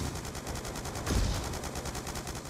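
Rapid gunfire in the Black Ops 2 video game, a fast regular stream of shots with one heavier burst near the middle, moderately loud and without talk.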